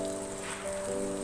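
Finely chopped garlic sizzling in hot oil over a medium flame, a steady close crackle and hiss with no talking.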